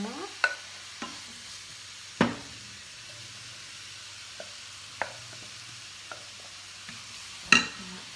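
Food is stirred in a hot cooking pan over a soft background sizzle, with a handful of sharp utensil scrapes and knocks spaced irregularly, close and fairly quiet.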